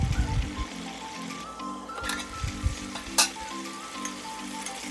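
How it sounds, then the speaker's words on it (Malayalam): Chicken curry bubbling at a steady boil in a covered pan over high heat, with a continuous soft sizzle and gurgle and a few faint clicks, no talking. "കറി നന്നായി തിളച്ച് വന്നിട്ടുണ്ട്."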